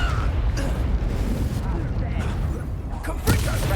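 Confringo blasting spell explosions in a Harry Potter video game: a dense, continuous roar of booming blasts with a sharper burst near the end, loud and close throughout.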